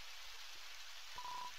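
Rain falls in an Undertale fan game as a soft, steady hiss of rainfall, faint and unbroken, with a brief electronic tone near the end.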